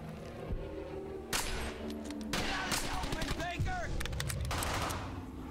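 Repeated bursts of game gunfire from Brothers in Arms: Hell's Highway, a WWII shooter, with sharp shots and rattling volleys crackling across the scene, loud and close, mixed with shouted voices.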